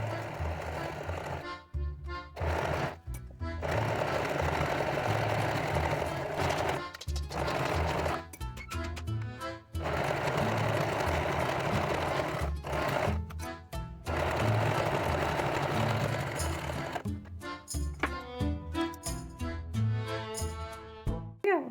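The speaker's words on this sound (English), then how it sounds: "So I'm going to use one of the zigzag stitches to really," A sewing machine runs a zigzag stitch through lacy mesh fabric for a wrap skirt, its rapid mechanical chatter going in long close bursts broken by brief pauses.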